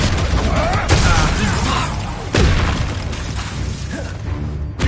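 Repeated Confringo fire-spell blasts in the Hogwarts Legacy video game, a few sharp booming bursts spaced over several seconds amid continuous game combat noise.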